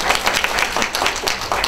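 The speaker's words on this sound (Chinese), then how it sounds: "来，给他鼓掌。" Audience applause at a guitar lesson after a guitar demonstration, a steady burst of many hands clapping fairly close for under two seconds, with no talk.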